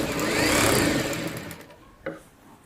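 A sewing machine stitches a Rajputi suit in a fast, close whirring run that slows and stops after about a second and a half, followed by one sharp click.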